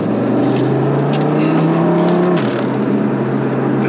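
A 560 hp Audi RS3 on a winding road, its engine note climbing steadily after a downshift, then dipping briefly at a gear change before pulling on, loud and close from inside the car.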